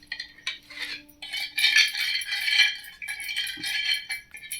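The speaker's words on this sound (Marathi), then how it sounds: "हे सर्व मिक्स करायचं आहे." A spoon stirs ingredients with salt and turmeric directly in a pan, giving close, continuous metallic scraping and clinking in uneven strokes, with no talk.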